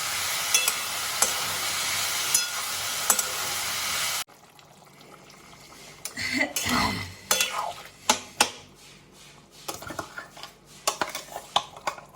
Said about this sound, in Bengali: আর এই যে তেলে দেখলেই আলুগুলো দিয়ে দিলাম একটু দিয়ে ভালো করে কষিয়ে জল দিয়ে দেবো